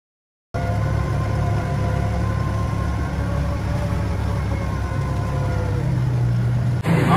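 An off-road buggy's engine idles at an airpark, giving a steady, moderate low rumble that runs unbroken from start to finish with no voices.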